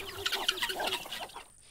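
Chickens on a farm clucking close by, overlapping short clucks and squawks in a busy, continuous chatter, with no voices.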